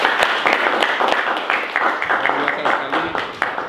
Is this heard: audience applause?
yes